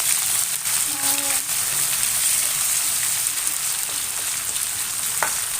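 Onion and green chillies fry in a pan for avarebele uppittu with a steady, close sizzling hiss. A faint voice murmurs briefly beneath it, and a small clink sounds near the end.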